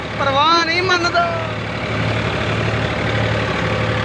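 A 2002-model tractor engine idles with a steady low rumble throughout, while someone talks over it for the first second or so.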